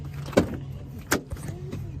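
Door of a 2008 GMC Sierra 3500HD pickup truck opening, giving two distinct clunks about a second apart with a fainter knock between, close by and alone over a low steady hum.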